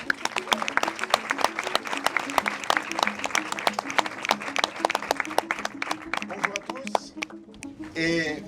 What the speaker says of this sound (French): merci d'applaudir le journaliste de Positif